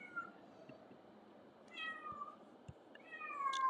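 A cat meows several times, short and fairly soft, in an otherwise quiet room, the later meows a little louder and closer.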